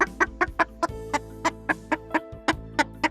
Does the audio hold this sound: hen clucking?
yes